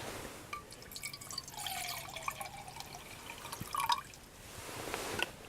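300 ml of water poured into a pot on a wood-pellet camping stove, with soft trickling and dripping over a steady low rumble of burning pellets.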